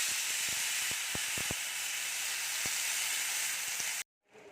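Tomatoes hit hot oil tempered with five-spice seeds for a chutney, sending up a loud, continuous sizzling hiss with scattered crackles that cuts off abruptly near the end.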